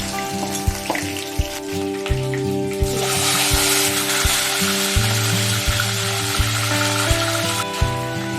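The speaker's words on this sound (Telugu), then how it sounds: "కాకరకాయలు మనం ఆయిల్లో ఫ్రై చేసుకునేటప్పుడు కొంచెం జాగ్రత్తగా ఫ్రై చేసుకోవాలి." Slices of bitter gourd fry in hot oil with a steady, hissing sizzle that grows fuller after a few seconds, heard over background music.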